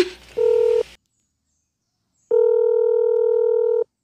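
Mobile phone being dialed, two clean electronic keypad tones, a short beep followed after a pause by a longer steady tone, loud and close with silence between.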